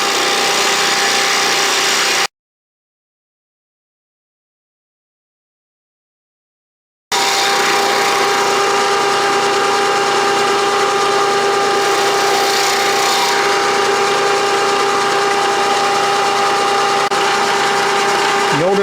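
Logan metal lathe taking a cutting pass at raised spindle speed, a steady loud mechanical whir with a tonal hum, broken by a few seconds of complete silence before resuming.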